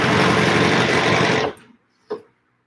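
A sewing machine quilting at three-quarter speed, a steady loud whirring run for about a second and a half that stops abruptly, followed by a brief faint mechanical clunk.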